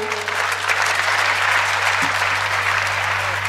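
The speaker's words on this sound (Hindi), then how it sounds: "ताली जोर बजाइए" An audience at a stage comedy show claps steadily and densely for a few seconds, a continuous wash of applause close and full.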